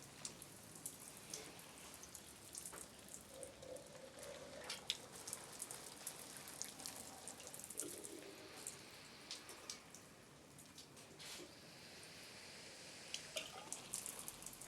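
Light rain at night, a faint steady patter with scattered drips and drops landing on surfaces. It stays soft and even, with no voices.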